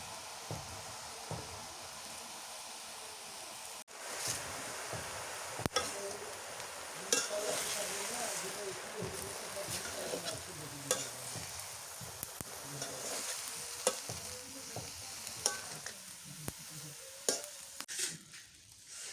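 Pumpkin sizzles in a pan while it is stirred, a soft frying hiss with scattered scrapes and knocks of the utensil, fairly quiet, close and steady, with no voices.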